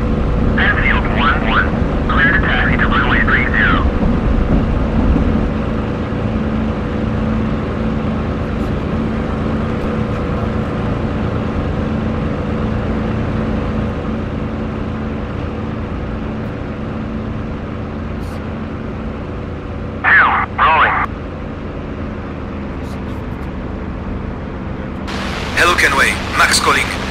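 Spitfire engine idling and rumbling steadily during a taxi in the DCS flight simulator, a loud continuous drone that eases slightly over time, with brief radio-style voice bursts breaking in now and then.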